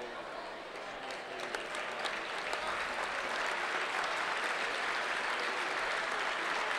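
A basketball crowd at an NAIA national tournament game applauds steadily, a broad, even wash of clapping that holds for several seconds and swells slightly toward the end, with no voices standing out.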